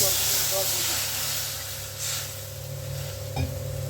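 Water is poured into a hot kadai to boil okra, setting off a loud steam hiss that starts strong and slowly settles into a softer, steady hiss with a small clink near the end.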